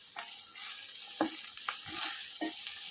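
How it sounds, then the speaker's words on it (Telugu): Broad beans frying in oil with chilli powder and salt, a continuous sizzle with several distinct spoon taps and stirring scrapes against the pan, no speech. "ఇది కూడా ఒక రెండు నిమిషాలు మనం ఇట్లా నూనెలో మొత్తం చిక్కుడు అంతా ఫ్రై చేసేసుకోవాలి"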